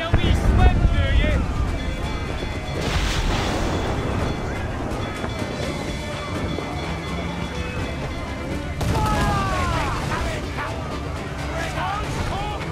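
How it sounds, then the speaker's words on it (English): Ship cannons fire during a naval battle in the video game Assassin's Creed Black Flag, with heavy booming bursts around the third and ninth seconds over rolling ocean and battle noise, while crew voices shout throughout. "Unload all the shots we have! Fire!"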